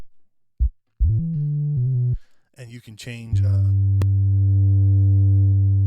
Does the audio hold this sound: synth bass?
yes